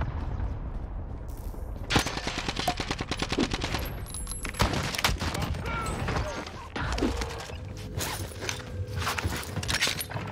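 FAMAS gunfire in Call of Duty Warzone, from a modded one-shot build, heard as dense overlapping shots and rattling bursts across the whole stretch, loud and close, with game clatter and movement sounds mixed in.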